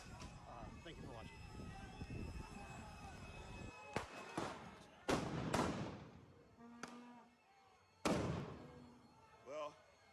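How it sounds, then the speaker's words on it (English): Flash grenades going off in a video game, several sharp bangs and thuds spaced a few seconds apart amid game sounds, with a person talking in the background. "Here goes another flash grenade."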